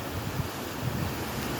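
Icy water pours over a river dam, a continuous broadband rush and roar like surf, mixed with wind buffeting the microphone, steady and fairly loud with no talking.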